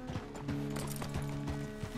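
Horse hooves clip-clopping at a walk in the Red Dead Redemption 2 video game, a steady rhythm of close hoof falls over a low droning background hum.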